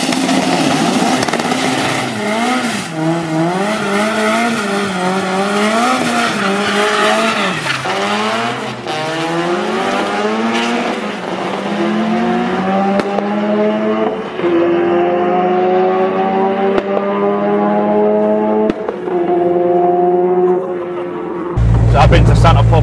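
The engine of a 540bhp Vauxhall Chevette sleeper drag car, loud and close, revving repeatedly with rising and falling pitch before settling into long sustained revs and then cutting off abruptly.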